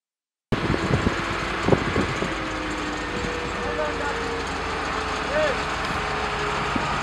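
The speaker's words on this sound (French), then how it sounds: "Regardez ce camion de marque OO. Il provient de la dite carrière. Chargé, il ne peut avancer." A loaded truck from a quarry sits stuck on a road, its engine a steady, fairly close drone with a few louder knocks near the start.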